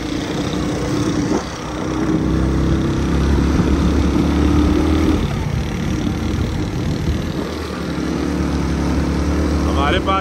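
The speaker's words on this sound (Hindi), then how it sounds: "हमारे पास चाइना वाला मोटरसाइकिल है" A Chinese-made motorcycle engine drones steadily while climbing uphill, loud and continuous with a slight rise in effort midway, and voices talk over it.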